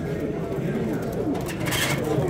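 Pigeons at a pigeon show coo in soft, low, rolling calls beneath nearby chatter from the crowd.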